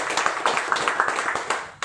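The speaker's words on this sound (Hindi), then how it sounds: "एक जोरदार तालियों से स्वागत किया जाए।" An audience applauds at a talk to welcome a speaker: a brief burst of brisk, evenly paced hand claps, fairly close and lively, with a few stronger claps standing out.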